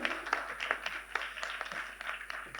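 Audience applause at a women's business partnership event on stage, a steady wash of many hands clapping with distinct sharp peaks, moderately distant and filling the room without speech.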